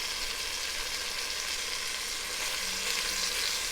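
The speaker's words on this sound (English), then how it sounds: "So I'm going to flip these and make sure I'm checking them all to see that they get a good sear on them." Beef pieces searing in a hot pot for New Orleans grillades, a steady close sizzle and crackle of frying meat that runs on without pause.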